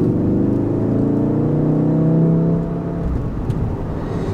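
Steady engine drone of a 2018 VW Golf R accelerating in automatic mode, a loud, close whirring rise that eases off slightly near the end, with no talk over it.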